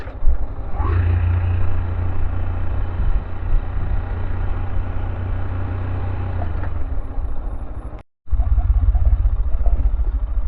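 A Tekken 250 motorcycle riding down a village street in Podillia, Ukraine, with a loud steady engine drone and rumbling wind noise, heard close from the rider's position, a brief dropout near the end.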